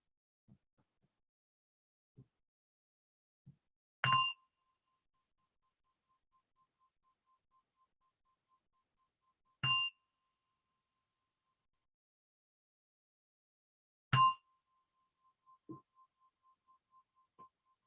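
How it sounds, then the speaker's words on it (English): A meditation gong rings out three times at the close of a mindfulness session, each clear, resonant strike spaced several seconds apart and left to hum away into near silence, with a few soft incidental knocks in between. "Opening as you hear the sound of the gong, slowly opening your eyes and reflect for a few moments."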